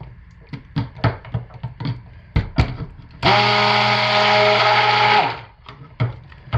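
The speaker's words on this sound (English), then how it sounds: "Give this a quick hit with the stick blender to finish emulsifying it." A stick blender mixes cold-process soap batter with activated charcoal: about two seconds of loud, steady motor whine that starts and stops abruptly, framed by clinking and knocking of the blender against the container.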